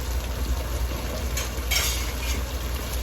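Liquid goes into a hot pot of Haitian black beans cooked with coconut milk, raising a steady close sizzle and bubbling hiss with a brief louder surge, and no talking.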